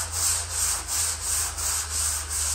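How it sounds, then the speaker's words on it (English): A disc sander grinds old gelcoat off a glider fuselage, its abrasive rasp swelling and easing in a regular rhythm of back-and-forth strokes over a constant low motor hum, close and continuous. "crew will begin grinding and sanding off the old Gelcoat"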